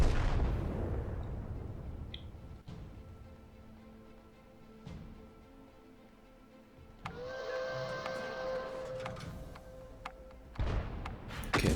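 Heavy artillery booms from self-propelled guns in a tank battle video game, with sharp reports at the start and later on, mixed with a steady mechanical hum and scattered impacts, with no voice.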